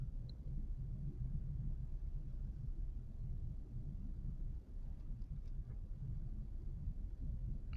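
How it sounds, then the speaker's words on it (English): A car driving at night, rendered as a steady low rumble of engine and road noise that holds evenly throughout, with faint wind noise and no voices. "I hear driving."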